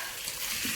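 Caramelized onions sizzle steadily in a hot pan as they are stirred together for a steak sandwich, a close, continuous frying hiss with no voices.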